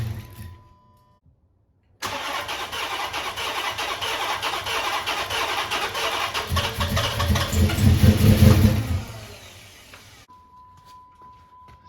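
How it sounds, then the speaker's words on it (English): A 2008 Dodge Charger engine cranks and fires after a BBK header install, settling into a loud, rough run for about eight seconds before shutting off. "I'm gonna start the car."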